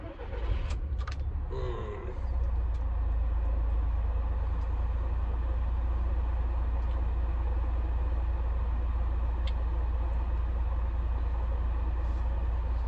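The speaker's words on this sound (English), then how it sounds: "I'm actually going to start the engine shortly." A car engine runs steadily to recharge a low battery, a continuous low rumble that starts about two seconds in and holds close and loud to the end.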